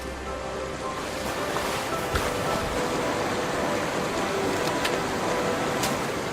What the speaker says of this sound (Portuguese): A água abre seu caminho através do deserto.